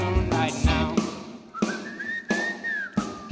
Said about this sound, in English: Come on, everybody, and whistle a tune right now.